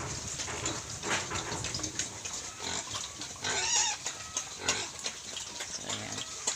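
Native piglets oink and squeal repeatedly on a farm in the Philippines, the grunts loud and close over a steady hiss of running water and general pen noise.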